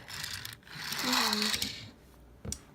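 A small Tomica die-cast firefighter toy car from the Tomica Kuji 22 series has its sprung suspension worked up close, making a burst of rattling, ratchet-like mechanical clicks with a brief whirr. A soft sharp tap follows near the end.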